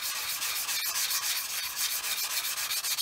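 Abrasive sanding of a plastic model kit part for a 1/48 R-11 fuel tanker, a steady close rasping rub with rhythmic back-and-forth strokes running continuously and evenly, with no voices.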